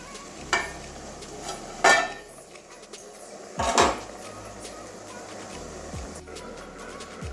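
Metal lid clanks on a pot of ridge gourd curry with poppy seeds, three sharp knocks spaced a second or two apart, over a faint steady sizzle and a few softer clinks.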